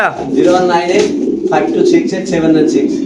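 Fancy pigeons coo in a loft, soft throaty calls repeating throughout while people talk over them.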